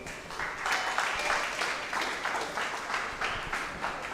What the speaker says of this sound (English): Please give them a loud round of applause, both schools.